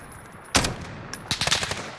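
Single tapped shots from an MK 20 SSR marksman rifle in Call of Duty Modern Warfare: one sharp crack, then a quick cluster of three or four more shots in close succession.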